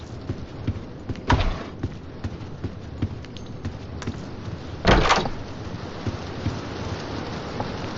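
Rain patters steadily in the Roblox game Doors, with two sharp thunder cracks standing out loudly over the continuous shower.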